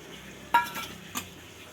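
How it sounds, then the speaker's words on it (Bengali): Hot oil being scooped from a pot of Kolkata-style aloo dum biryani, with two short metallic scrapes of a ladle against the pot and a soft sizzle beneath, close and fairly quiet. "এই তেলগুলোকে আমি কিছুটা তুলে নেব আমি উপর থেকে দেওয়ার জন্য"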